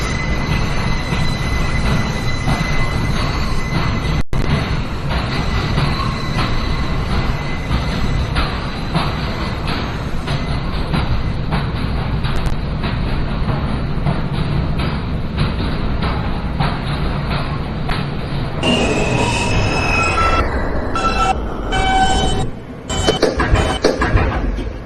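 A Manhattan-bound New York City J local subway train runs with a steady loud rumble and rattle of wheels on track, brief squeals, then shifts as it slows near the end.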